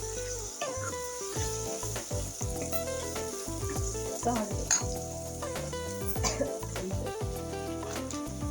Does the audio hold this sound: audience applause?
no